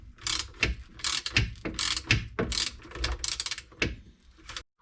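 A wrench ratchets a new bolt tight on an Audi A6 C6 rear shock absorber held in a vise, a series of sharp close clicking bursts in uneven rhythm, with a brief pause near the end.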